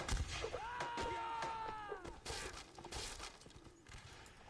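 Horse hooves clopping in the Mount and Blade North & South mod line battle, with repeated sharp thuds over a busy background of battle noise, whistling tones and faint voices.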